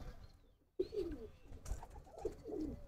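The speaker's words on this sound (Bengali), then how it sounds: "এইখানে আরেকটা কবুতর আছে" Soft, low pigeon coos repeat in short rolling phrases at close range, with faint rustling between them.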